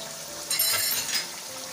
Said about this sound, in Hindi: थोड़ा सा इसी प्याले को धो के हम इसके अंदर पानी डाल देंगे थोड़ा सा